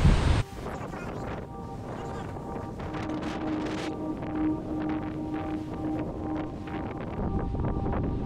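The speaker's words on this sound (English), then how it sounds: "How about I lower you down into the ocean? You can see what the waves are like firsthand." Ocean waves and strong wind rushing past a camera lowered toward the sea from a boat, a steady dense roar of surf and wind buffeting with a faint hum underneath.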